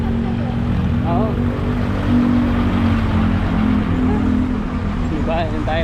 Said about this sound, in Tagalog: Paka-traffic pala dito.